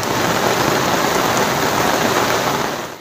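Steady heavy rain pours down as a continuous, loud, dense hiss that fills the whole clip with no voices, easing off only at the very end.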